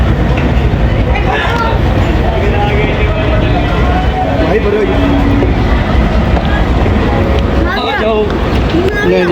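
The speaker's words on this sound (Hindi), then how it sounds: "ट्रेन हमारी पहुंच गई जी खानेवाल जंक्शन" Train pulling into Khanewal Junction, a steady loud rumble of rolling stock with brief high squeals near the end, under someone talking throughout.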